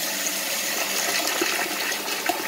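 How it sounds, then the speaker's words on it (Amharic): Wheat grains are washed by hand in lukewarm water while preparing Ethiopian gulban: a continuous, close sloshing and rushing of water with no voices. "አሁን ስንዴውን እናጥበዋለን"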